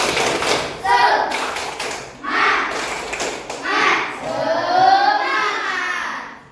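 A primary school class doing the rhythmic 'tepuk semangat' spirit clap in a digital classroom at a madrasah in Lubuklinggau: several loud bursts of group clapping in a steady pattern, mixed with children's chanting voices.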